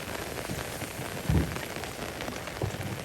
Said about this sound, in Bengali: বৃষ্টি আসলে প্রচণ্ড বৃষ্টি, যার কারণে আমরা মাছ ধরায় ব্যর্থতা